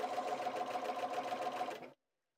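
A Bernina 530 sewing machine stitches a triple zigzag in a rapid, even mechanical whir, close and alone, stopping abruptly after about two seconds.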